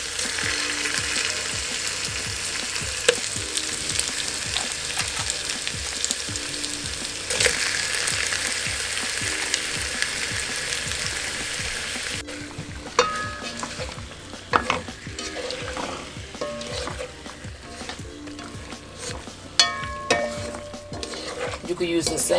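Sliced beets sautéing in a pan, sizzling and frying under steady stirring, with scrapes and clinks of a utensil against the pan growing more distinct toward the end.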